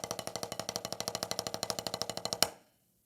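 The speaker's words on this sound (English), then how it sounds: "So the double stroke roll sounds like this." Rapid, even stream of sticks striking a practice pad in quick pairs, a continuous fast roll lasting a couple of seconds before stopping with a final accent.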